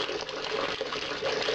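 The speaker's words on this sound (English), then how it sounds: "I'm just taking about 5 litres of water off" Water draining steadily from a brewing kettle on brew day, about five litres being run off, a continuous close gushing pour without pause.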